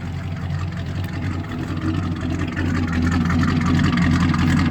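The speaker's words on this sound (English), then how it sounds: "Love the sound of these exhausts on this thing. Just turbo mufflers straight back out with the shorty headers." A car's exhaust with turbo mufflers, straight-back pipes and shorty headers rumbles steadily up close, the deep engine note growing slightly louder and fuller toward the end.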